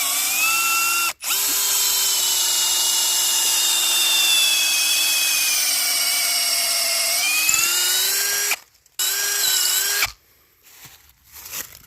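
A power drill bores a tap hole into a maple tree, a loud, steady motor whine running several seconds with a brief stop near the start, then cutting out and restarting in short bursts near the end.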